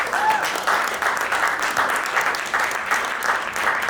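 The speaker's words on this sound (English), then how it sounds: "I think that deserves a round of applause." Audience applause at a South Asian business event, a continuous dense wash of clapping from a sizable crowd, loud and close, holding steady for the whole stretch.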